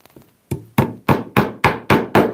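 A nylon hammer taps brass pins into a leather trunk: seven crisp, evenly spaced taps in a steady rhythm, each a sharp close thud with a short ringing decay.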